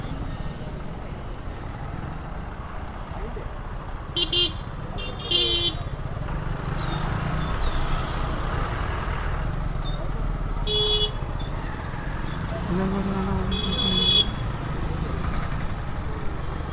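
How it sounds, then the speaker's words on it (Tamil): Busy city road traffic heard from a moving motorbike, with a steady engine and road rumble throughout and several short car horn toots scattered across it, some near and some farther off. "டிராஃபிக்காக இருக்குது."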